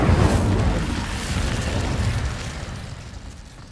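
Incendio fire spell cast in Hogwarts Legacy, a loud burst of roaring flame that swells at once and slowly fades over a few seconds, with no voices.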